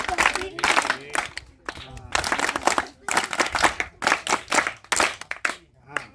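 Children at a summer camp clap the rhythmic jungle clap in a group, sharp bursts of many hands in quick patterned runs with short gaps between phrases, loud and close.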